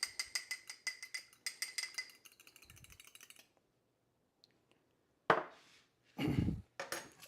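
A whisk beats cream cheese filling in a bowl, giving rapid rhythmic metallic clicks and scrapes in bursts, then a pause and a few louder knocks and clatters against the bowl.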